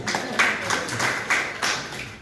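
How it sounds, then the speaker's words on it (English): Audience clapping at an opposition party rally in Uganda as party leaders are introduced, a few loud bursts of applause that rise and fall over a murmuring crowd, with no clear speech. "It's okay to clap for these people."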